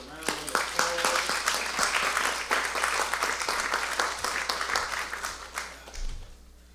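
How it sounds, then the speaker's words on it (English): Audience applause at a homebuyer workshop, a full room clapping continuously for several seconds, strong and sustained, gradually thinning toward the end as a low hum and a brief voice appear. "let's give the lovely Miss Cabot a round of applause"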